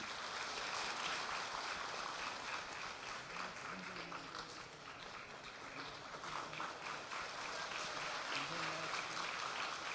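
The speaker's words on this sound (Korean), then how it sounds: "이번에도 뜨거운 격려 박수 한번 주시면 감사하겠습니다" A church congregation gives sustained applause during a Sunday worship service scholarship ceremony, a dense, steady roar of many hands from a large room, with a voice faintly under it.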